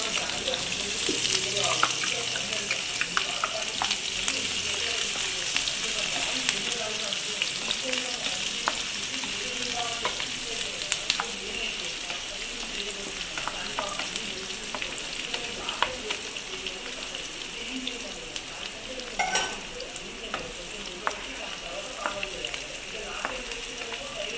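Onions and green chilies fry in a pan with a steady, dense sizzle and crackle throughout, sharp pops and stirring scrapes scattered on top, close and loud.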